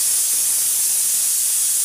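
Steam jets from a pressure cooker in a continuous, close, loud hiss with no break and no voices over it.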